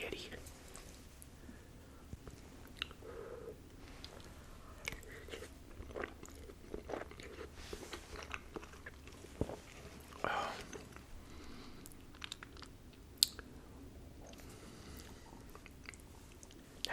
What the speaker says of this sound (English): Just gotta eat it like spaghetti.